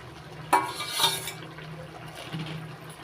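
Fried shrimp stirred into a curry in a metal pan, a spoon clinking and scraping in two quick close strokes near the start, then quieter faint stirring with no speech.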